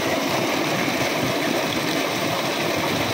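Strong water gushing steadily from a solar-powered tubewell with a 10 HP motor, a loud continuous rushing flow with no pauses, close up.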